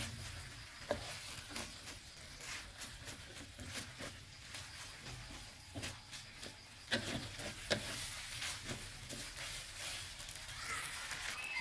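Thin rice noodles stir-fried in a pan give off a steady low sizzle, broken by scattered scraping and clattering of a utensil stirring them, with a few louder clanks.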